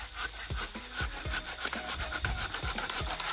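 A hand saw cuts through timber in steady, rhythmic back-and-forth strokes, each stroke a rasping scrape close by and fairly loud, with no talking.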